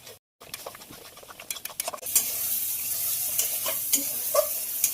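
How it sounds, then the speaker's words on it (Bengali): Spice paste with turmeric and salt fries in oil, stirred with scraping and tapping strokes over a crackling sizzle that grows louder and steadier partway through, close with no talking. "এবার মশলাটা ভাজার জন্য খুব ভালোভাবে নেড়ে দেবো।"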